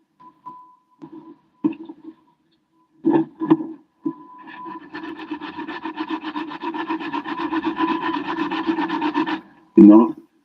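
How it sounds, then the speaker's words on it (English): A few short scrapes, then a long continuous rhythmic rasping of hand sanding on a wooden catapult frame, close and steady, ending with a louder scrape. "normally I love sanding frames, giving them a shape"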